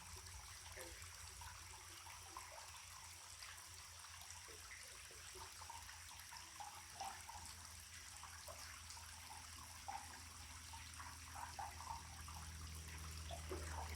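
Creek water flowing steadily around someone standing in a shallow creek after a couple of weeks without rain, a soft, even rushing and trickling wash that runs unbroken throughout at a low level with no talking.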